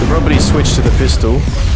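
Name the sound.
pistol firing at synthetics in video game Mass Effect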